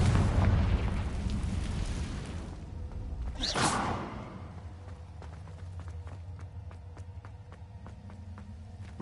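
A Confringo fire spell in Hogwarts Legacy goes off as a single whooshing burst that swells and fades into a brief rumble, followed by a run of soft clicking footsteps over a low ambient drone.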